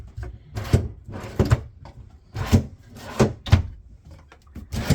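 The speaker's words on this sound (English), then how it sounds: "Your dresser has two pull-out drawers here at the top." Pull-out dresser drawers in a 2016 Keystone Cougar 333MKS fifth wheel slide and thud several times in an irregular rhythm, loud and close, with no talk over them.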